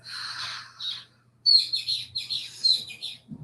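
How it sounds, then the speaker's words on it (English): A bird chirps clearly nearby in bright, quick bursts of tweets, with a short pause and then several more rapid chirping phrases; no one speaks. "Do you hear that bird that just started chirping?"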